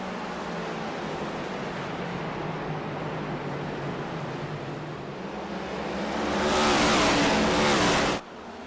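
A pack of race cars accelerates on a restart at Richmond. A steady, dense engine roar builds into a louder surge toward the end, then drops off abruptly.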